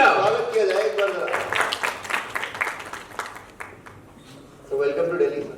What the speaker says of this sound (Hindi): प्लीज जोरदार तालियां। स्वागत किया जाए एक बार।